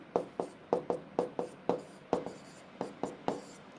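A pen or marker writes on a board during a chemistry lesson, about a dozen short scratchy strokes in an uneven rhythm, close and clear with no talk.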